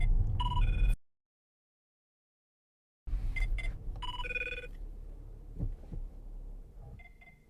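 A telephone rings in electronic bursts of tones, cut by a moment of silence and then resuming with several short ringtone chirps, heard fairly close over a low background.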